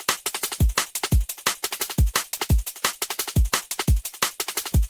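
Full liquid drum and bass beat with ghost snares and shakers, loud and steady: deep kicks, snappy snares and constant bright shaker and hi-hat ticks rolling in a fast broken pattern.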